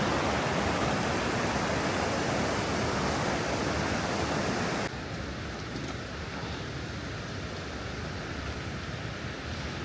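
A waterfall in France, heard from the top where the water drops over, gives a dense, steady roar that fills the whole clip, slightly quieter in the second half, with no voices.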